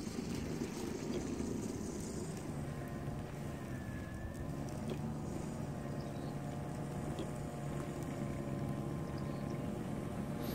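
Steady engine drone of a Spyker KAT 2X snow blower running while driving through snow, a continuous low rumble with a constant level throughout and no talking.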